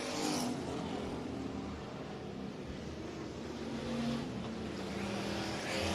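Non-wing sprint cars roaring around the dirt oval at Heart O' Texas Speedway, a continuous blended engine drone from the field at a distance, fairly faint with slight swells.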